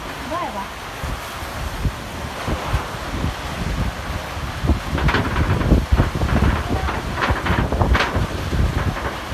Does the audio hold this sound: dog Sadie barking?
no